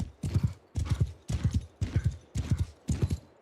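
Rhythmic clip-clop of a ridden horse's hooves in a medieval bandit-and-trade role-playing game, six evenly spaced bursts of hoofbeats, close and fairly loud with no talking.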